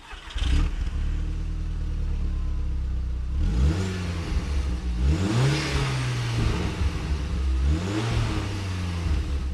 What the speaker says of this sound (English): let's take my little TT out for a bit of a spin